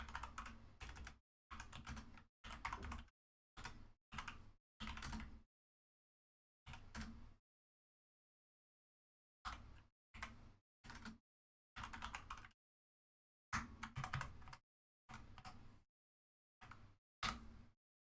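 Bursts of typing on a computer keyboard during a live football watch-along of Manchester United versus Burnley, clustered key clatter separated by short pauses, close and clear with no talking.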